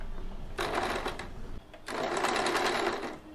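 Domestic sewing machine stitching the folded fabric waistband of a small Laddu Gopal nappy, two close rapid bursts of mechanical clatter separated by a brief pause.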